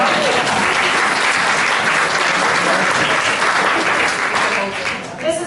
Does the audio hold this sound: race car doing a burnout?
no